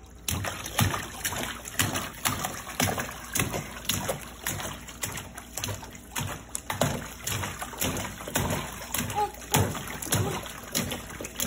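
Water splashes as a dog gets wet, irregular sloshing bursts recurring through the scene, close and moderately loud, with a person talking intermittently.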